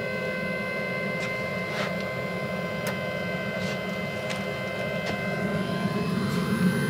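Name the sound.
pellet grill blower fan running on a Pellethead Poboy smoker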